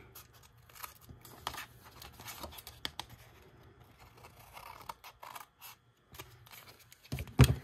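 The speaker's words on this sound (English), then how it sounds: "Now I'm going to take my scissors and I'm just going to trim off this excess here." Scissors trim excess paper for a craft coffee-cup pocket, snipping repeatedly in short, irregular bursts close by, with quiet pauses between cuts and a brief louder rustle at the end.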